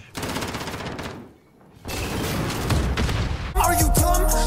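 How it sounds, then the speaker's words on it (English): Rocket launcher and heavy gunfire in Call of Duty Modern Warfare multiplayer, dense rapid shots that stop briefly, resume, then give way to a loud booming blast near the end. "I'm gonna try to shoot a rocket launcher in the floor and see if I can get some of them"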